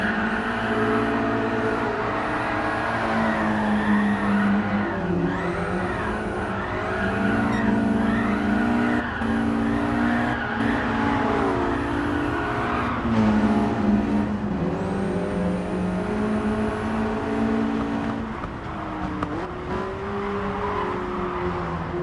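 A drift car runs full throttle through every corner while following a 911 in a five-car train, with engines roaring and rising and falling and tires squealing continuously at loud, close range.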